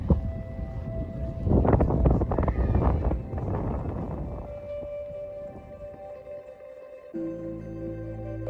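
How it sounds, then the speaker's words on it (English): Strong gusts of wind at Great Sand Dunes buffet the microphone, surging loudest early on and then settling into a lower, steadier rush. "Pretty windy still."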